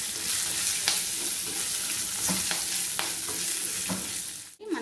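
Lentils, dried and green chilies and curry leaves fry in a pan with a loud, continuous sizzle, broken by occasional soft stirring scrapes and no speech.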